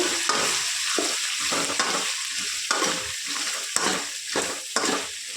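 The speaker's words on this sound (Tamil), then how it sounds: "நம்ம கட் பண்ணி வச்சுட்டுருக்க வெங்காயத்தை போட்டுக்கலாம்." Chopped onions sautéing in a pan: loud, close sizzling broken by rhythmic scraping strokes of a spatula stirring about once a second.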